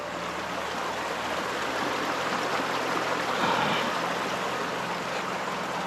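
River water flows in a steady, close rush, an even broadband wash of current that holds constant throughout with no voices.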